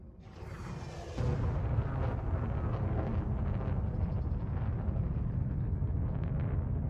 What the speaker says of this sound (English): We're seeing multiple explosions at the inner dock.